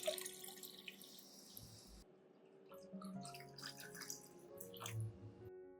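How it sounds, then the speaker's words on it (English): Water trickles and splashes steadily into a garlic and lime peel fertilizer solution, a quiet pouring stream with small drips near the end. "Add 1 liter of water to dilute the solution."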